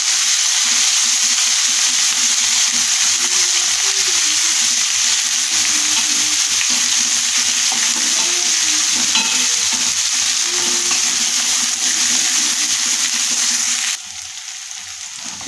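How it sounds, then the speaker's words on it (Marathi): Ground masala paste frying in oil in a pan for dhaba-style chana masala, stirred as it cooks, gives a steady close sizzle with scraping stirs throughout. It drops noticeably quieter near the end, and no one talks. "हा मसालाही आपल्याला तेलामध्ये व्यवस्थित तळून घ्यायचा आहे"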